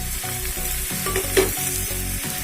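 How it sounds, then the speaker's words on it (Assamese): Chickpeas go into a pan of frying onions with ginger-garlic paste and a little soda, crackling and sizzling close up in a steady hiss, with a few pops and stirring clinks partway through. "পিঁয়াজ অকণমান আছিল দি দিছোঁ এতিয়া বুটটো দি দিছোঁ"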